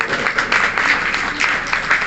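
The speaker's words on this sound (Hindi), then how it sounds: "आप अपने लिए जरूर ताली बजाएं।" An audience applauds at a school annual prize distribution ceremony, with dense, continuous clapping from a large crowd and a faint murmur of voices underneath.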